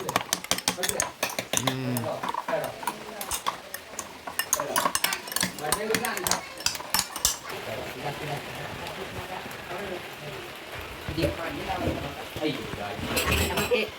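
Flattened rice (avil) with milk is pounded in a vessel, producing rapid, clattering knocks and scraping against the container in an uneven rhythm, while a person speaks alongside.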